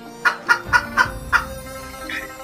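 A chicken clucks in a quick series of five sharp, evenly spaced calls, followed by a softer trailing note, with no talking.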